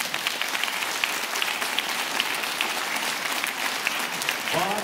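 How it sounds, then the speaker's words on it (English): Sustained applause from a large crowd at a high school jazz concert, a dense even patter of many hands clapping throughout, with a voice briefly starting at the very end. "Let's have a round of applause for them"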